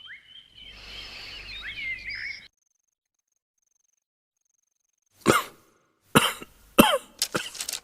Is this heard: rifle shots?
no